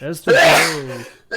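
A single loud, close sneeze erupts from a commentator during live casting of a Heroes of the Storm league match, preceded by brief speech and trailing into a long breathy tail before talk resumes.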